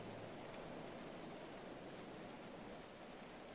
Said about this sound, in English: It's raining, is that, does that matter?